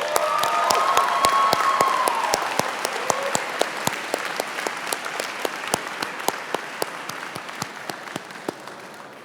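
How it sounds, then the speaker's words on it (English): Audience applause at the Johns Hopkins Carey Business School summer 2023 commencement ceremony, a full hall clapping with a brief cheer early on, gradually thinning to scattered individual claps. "let us have a round of applause for Professor Kevin Frick for reading the names of our graduates"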